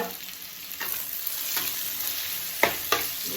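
Chopped onions, three large ones, frying in hot oil in a pan, giving a steady close sizzle with a few sharp stirring scrapes and clacks; no one speaks.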